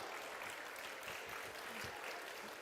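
A crowd at a giant pumpkin weigh-off at Pumpkinfest 2025 claps after a pumpkin weighs in at 497.5 pounds, a faint, distant, continuous patter of applause.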